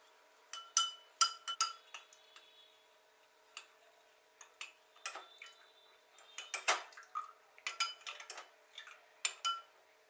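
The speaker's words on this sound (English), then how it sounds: "We'll stir it till the salt fully dissolves." Salt being stirred into water in a vessel until it dissolves, giving faint, irregular clinks and taps of a spoon against the container, close by and without talk.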